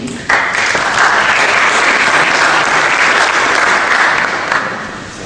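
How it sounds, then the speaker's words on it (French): An evening awards gathering's audience bursts into loud, close applause for a winning family house, a sudden dense wash of clapping that holds steady for several seconds and then starts to taper. "on peut les applaudir"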